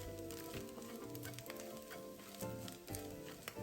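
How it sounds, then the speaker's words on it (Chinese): Dried shrimp sizzling in a spoonful of scallion oil in a pan over medium heat, a steady, close frying hiss with crackling pops and occasional stirring scrapes, and no voices. "加入1大匙沥出的葱油，接着再将备好的虾米加进来，炉保持中火，将虾米爆香"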